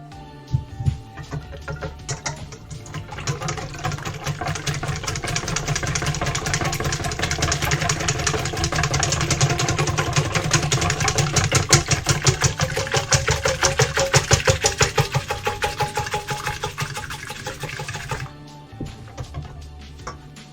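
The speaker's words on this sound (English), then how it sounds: "Whisking time." A whisk beats rapidly against a bowl, a fast steady rattling rhythm building louder through the middle before easing off, close and continuous with no talking.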